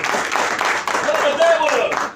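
A burst of audience clapping at a business training session, loud and scattered, with a voice talking over it partway through.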